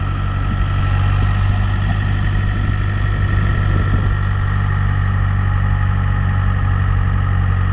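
A Ford 6610 tractor hauling a manure spreader runs steadily, its diesel engine giving a loud, continuous low drone with a constant throb and no letup or talk.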